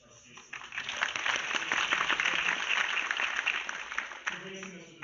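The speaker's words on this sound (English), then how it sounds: "definitely round of applause for Ms. Garcia" Audience applause for a guest speaker at a school environment club's World Environment Day event, swelling after a soft start, holding steady, then thinning out near the end.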